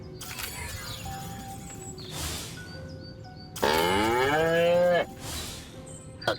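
Cattle in the video game Destroy All Humans moo twice, the second call longer and louder, alongside short electronic game tones and a faint background hum.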